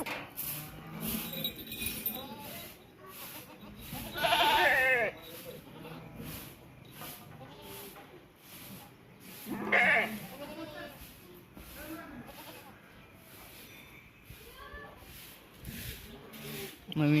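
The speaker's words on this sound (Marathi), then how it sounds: "नवीन शेळ्या आल्यात." Newly arrived goats at a home, bleating a few times in short bursts, a close loud cry around the middle and another later, amid chatter, clinks and household background.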